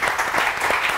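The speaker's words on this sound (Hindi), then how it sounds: "बहुत सारी तालियां" A studio audience on a morning television show breaks into applause, a brief, loud, dense patter of clapping heard alone.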